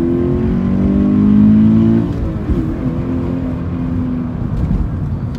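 A 2018 Toyota GT86 sports car engine revs up with rising harmonic pitch over about two seconds, then drops off and idles roughly as it pulls away, loud and close with no talk.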